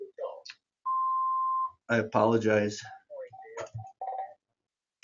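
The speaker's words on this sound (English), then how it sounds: "That was my phone in the background." A phone gives a single steady electronic beep about a second long in the background, followed by a few shorter tones mixed in among a person's speech.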